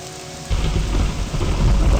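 Heavy rain and rumbling thunder in The Elder Scrolls III: Morrowind, a steady downpour with deep low rumble that swells in loudly after a brief quieter start, with no talking.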